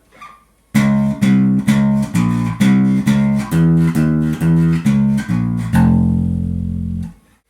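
The full B section of a distorted metal bass riff in a harmonic minor mode plays alone. About a dozen punchy, evenly paced note groups run in a steady driving rhythm, ending on a long sustained note. The sound is loud and close.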